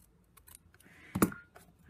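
Scissors trim card stock for a Stampin Up box, with one sharp close snip standing out against faint handling rustles in a quiet room.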